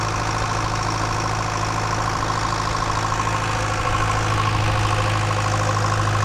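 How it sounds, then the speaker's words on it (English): A crusty old engine idles steadily while driving a water well pump that feeds a center-pivot irrigation system on a farm, making a continuous, loud, close rumble with a low drone and no pauses. "This crusty engine is turning a well that pumps water to this pivot right here"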